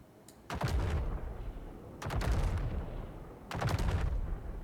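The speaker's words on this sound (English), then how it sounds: "Let's switch to the big size 8 ballistic cannons." Size 8 ballistic cannons on a ship in the Star Citizen video game fire three heavy, booming volleys about 1.5 seconds apart, each a loud, sharp blast with a rumbling tail.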